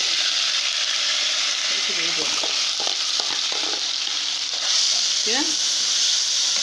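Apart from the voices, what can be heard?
onions frying in a pan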